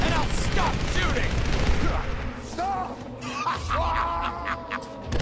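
Gunfire in the Tomb Raider video game: bursts of shots and booms spread across the clip, mixed with shouting voices and game effects.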